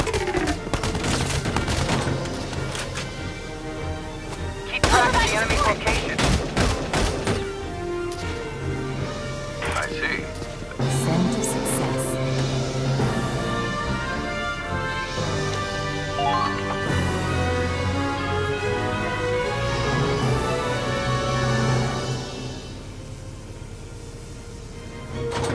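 Enemy fire in the Valkyria Chronicles 4 video game: bursts of gunfire and booms scattered through a long stretch, under game music and voices talking.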